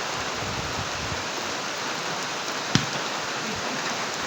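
Steady rain falls across the whole stretch as an even, dense hiss, with one brief sharp knock near the end and no voices.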